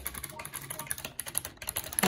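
Rapid, uneven clicking of keys on an old computer keyboard, close and clear, with no talking.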